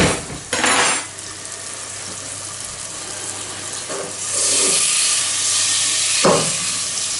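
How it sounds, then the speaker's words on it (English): A plate, knife and fork clatter in a kitchen where mushrooms fry, with sharp metallic clinks and scrapes standing out over a steady sizzle from the pan. "So, plate, knife and fork."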